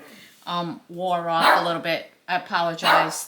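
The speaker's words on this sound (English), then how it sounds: "That's my dog barking for his." A pet dog barks several times close by in a home embroidery workspace, its short yaps mixed with someone talking throughout.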